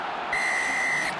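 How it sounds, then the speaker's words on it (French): Rugby referee's whistle at an Ireland versus Wales international, a single sustained shrill blast lasting under a second over steady crowd noise in the stadium. "Mais l'arbitre jugeait que Rory Jones avait effectué un double mouvement pour marquer et allait siffler pour sanctionner cette infraction."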